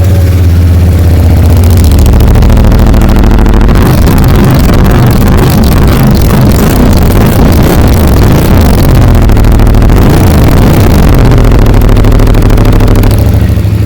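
A CFMOTO CLC 450 cruiser motorcycle idles close by, then revs repeatedly to a loud, throaty exhaust roar before settling back to a steady, thumping idle.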